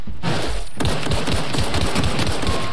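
Rapid automatic gunfire in the sci-fi video game The Outer Worlds, a loud, dense burst of fast repeated shots following a short opening shot, continuing to the end.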